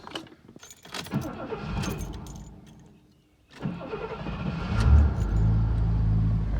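A 1973 GMC Motorhome: keys rattle and the engine cranks, pauses, then catches and settles into a loud, steady running rumble close by.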